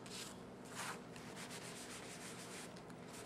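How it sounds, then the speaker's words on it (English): A towel dampened with water is rubbed over stamped paint images on paper, a close, soft, continuous brushing and scrubbing with a few slightly louder strokes. "then you're going to take and rub over top of your images"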